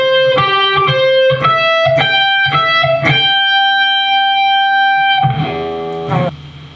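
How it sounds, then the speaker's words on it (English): An electric guitar plays the arpeggio from a song, clear picked notes in a steady rhythm, ringing tones held, then a strummed chord near the end, played alone and loud. "So the arpeggio sounds like this."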